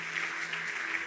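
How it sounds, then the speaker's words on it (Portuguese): A church congregation applauding during a sermon, heard as a faint, distant, steady patter of many hands clapping for about a second, with no voices on top. "Você pode aplaudir Jesus por isso?"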